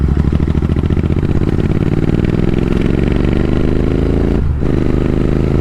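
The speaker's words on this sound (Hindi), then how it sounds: "एग्जॉस्ट तो यार बहुत ज़्यादा ही तगड़ी आवाज़ कर रहा है" Royal Enfield Interceptor 650 with a modified exhaust, pulling hard in sixth gear: a loud, steady, deep rumbling engine note held close throughout, with a brief dip near the end as the throttle eases.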